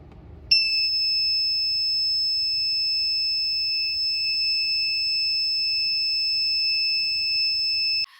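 Buzzer alarm on an Arduino UNO flammable gas detector with an MQ sensor, sounding one shrill steady tone for about seven and a half seconds before cutting off sharply, loud and close over faint background hum.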